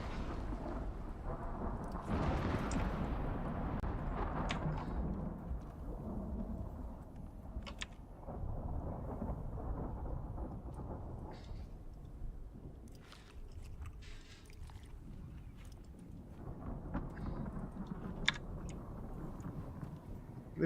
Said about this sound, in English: Getting kind of stormy out.